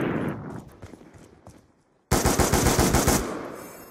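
Rapid automatic gunfire from Black Ops 2 gun game, with a shotgun and LMGs in use, in dense repeated bursts; a quieter stretch gives way at about two seconds to a loud, sustained string of shots.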